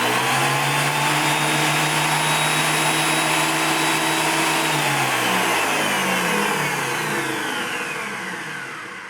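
Craftex CX13HC helical head planer running empty with no wood fed, a loud steady whine and hum like a vacuum cleaner, its motor tones sliding downward as it spins down and fades.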